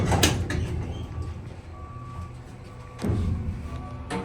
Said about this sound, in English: And please excuse the truck beeping,